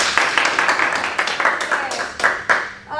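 A small classroom group gives a short round of applause to a student during a microteaching lesson, a few seconds of uneven, close hand claps with distinct individual slaps that trail off.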